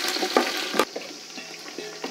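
Sliced onions frying in hot oil with mustard seeds, a steady close sizzle with a few brief stirring clatters and no one talking.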